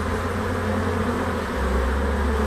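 A swarm of honeybees swarming in spring in the middle of a town, a dense, steady buzzing drone that fills the whole clip, loud and close with no voices.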